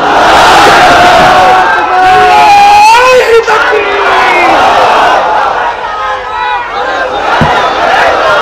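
A large outdoor crowd at a religious gathering near the Benapol border in Jashore roars a takbir chant in unison, with loud, sustained massed voices that rise and fall together and fill the whole stretch.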